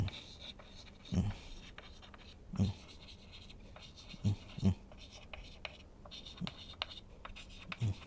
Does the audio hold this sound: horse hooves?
no